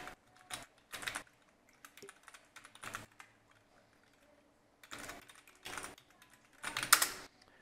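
Bursts of typing on a computer keyboard while logging in as an admin, quick clusters of key clicks separated by pauses, close and fairly quiet with no talk.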